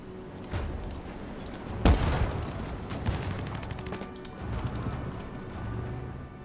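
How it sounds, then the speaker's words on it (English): A rocket launcher attack in Civilization VII strikes with one sharp blast and rumble, followed by softer battle thuds and scattered gunfire at moderate loudness. "That's probably my rocket launcher, yep. There it goes."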